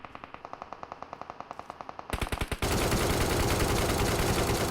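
Rapid gunfire from an ACE32 rifle in PUBG Mobile: a steady run of evenly spaced single shots, then a quick burst, before a loud continuous roar of dense automatic fire takes over.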